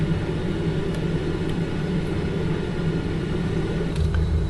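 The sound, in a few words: jet aircraft climbing after takeoff in flight simulator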